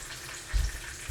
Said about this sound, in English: we're frying the second batch